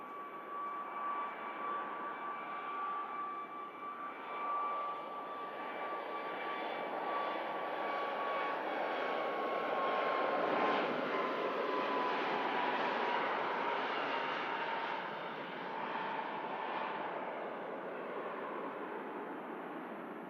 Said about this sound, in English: Here goes up on the Ryanair.